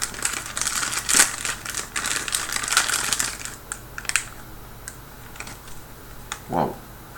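Crinkling plastic packaging and crisp rustling as a boxed Dalek figure is opened, dense, close crackles for the first few seconds and then sparser, quieter handling noises.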